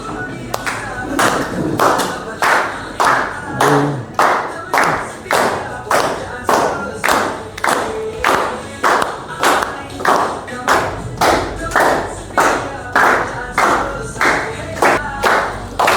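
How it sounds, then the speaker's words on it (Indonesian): A group claps hands together in a slow, regular rhythm, loud sharp claps spaced about half a second apart for the whole stretch, with a brief voice early on. "Kita tepuk tangan."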